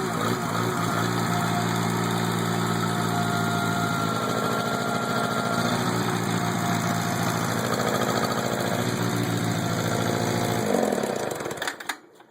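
A vintage Kohler small engine, freshly fitted with a rebuilt fuel pump, runs at a steady, close, loud chugging idle with a buzzing mechanical drone for about eleven seconds before it cuts off and winds down.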